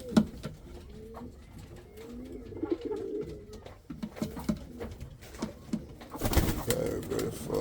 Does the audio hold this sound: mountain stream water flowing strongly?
no